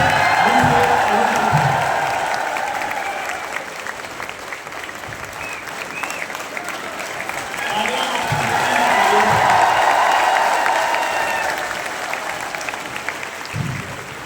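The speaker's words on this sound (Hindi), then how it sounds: "अब सबकी जोरदार तालियों के बीच में" Seminar audience in a hall giving loud sustained applause that swells twice, a dense wash of clapping with occasional cheers, lasting the whole stretch.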